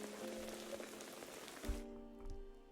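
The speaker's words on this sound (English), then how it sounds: "The rain continues for the whole night." Soft steady rain in the Tears of Themis video game, a broadband patter that fades out abruptly partway through, leaving quiet background music.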